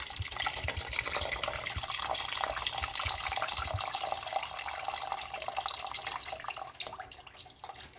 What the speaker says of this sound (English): So to refill the pan, I'm going to use water.